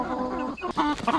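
Silver Appleyard roosters clucking defensively in a coop, a few quick, close, throaty clucks and short calls in rapid succession, with no talk.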